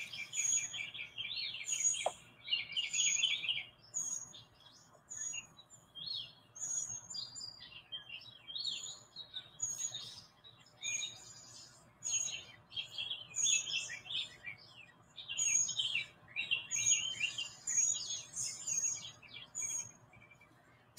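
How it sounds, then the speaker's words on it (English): Varied bird chirps and tweets fill the air outdoors, several birds calling in overlapping bursts over a low background hum, with no talking. "let me see if you can hear the birds."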